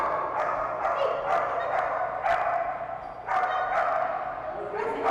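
A young Belgian Malinois, just over a year old, barks in a run of sharp, repeated yips and bow-wows at a dock-diving splash event. The barks come in close, excited bursts over a busy crowd background.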